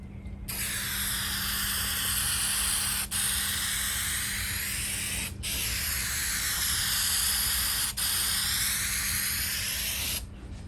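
An aerosol can sprays metallic paint onto a metal tool box outdoors, in long loud hissing bursts of several seconds each, separated by brief pauses, with no talking.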